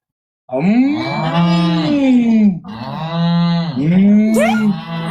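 A cow moos loudly and close, two long drawn-out lows with a short break between them.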